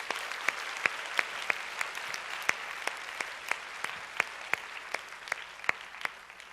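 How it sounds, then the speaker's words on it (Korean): Church congregation at a university group summer retreat applauds soldiers home on leave. The clapping is soft, steady and spread across the room, with a few sharper claps standing out, and it continues alone without talk. "우리 군 휴가자들 한번 박수 보내겠습니다."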